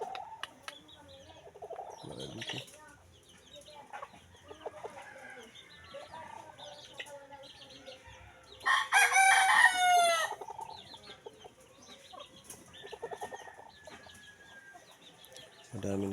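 Hens cluck steadily through the clip, and a loud rooster crow rings out midway. A person speaks briefly over the birds.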